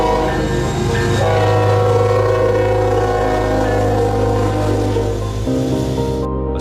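A Union Pacific freight locomotive pulling a military transport thunders past on Norfolk Southern tracks in Illinois, loud and close, its horn sounding over a continuous heavy rumble of rolling wheels.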